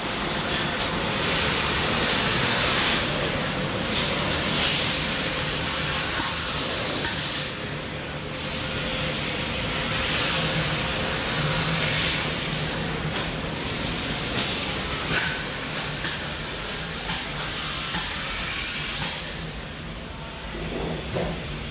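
A machine making fiberglass poles inside a plastics plant runs with a loud, steady mechanical roar and hiss, broken by occasional sharp ticks and clacks, continuous throughout with no talk.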